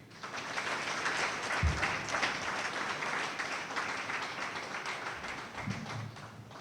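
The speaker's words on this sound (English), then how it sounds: "Another round of applause, please" An audience applauds at a government ceremony celebrating the International Day for Persons with Disabilities, a steady wash of many hands clapping at moderate distance, with a couple of soft low thumps.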